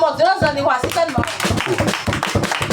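A church congregation claps in praise, irregular taps of many hands building up beneath a loud voice speaking over them.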